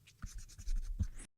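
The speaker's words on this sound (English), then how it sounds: "Maybe I will erase a bit here to make the skull, the face too detailed." An eraser rubbing over a graphite pencil sketch of a dinosaur skull on paper, a few quick scratchy strokes close to the microphone, ending abruptly.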